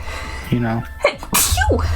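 A single sharp human sneeze bursts out in the middle, closely surrounded by brief speech and an exhaled phew.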